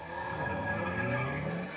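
A car drifting on a snowy track in the racing game Forza Horizon 6, a sustained tire squeal with engine tone underneath, loud and continuous for the whole stretch.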